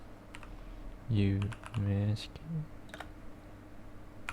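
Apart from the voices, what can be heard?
typing on a computer keyboard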